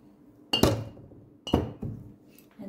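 A grilled shrimp marinade with oyster sauce and olive oil is mixed in a glass bowl, two sharp clinking strikes of a utensil against the glass about a second apart, each trailing into brief scraping, with a fainter tap at the close.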